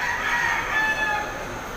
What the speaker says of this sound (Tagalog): May manok pa eh.